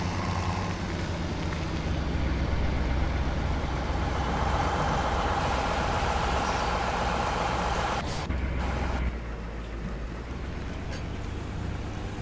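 A truck engine drones steadily in Farming Simulator 17, a constant low rumble with a brief hiss like an air brake partway through, then the engine settles slightly quieter; no voices.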